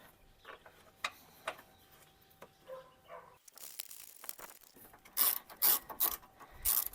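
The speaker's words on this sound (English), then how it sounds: "Now you can just tighten down the 2 bolts." A hand ratchet tightens two headlight bolts on a Chevy Colorado, quick clicking bursts of the pawl close up, with sharper louder clicks near the end.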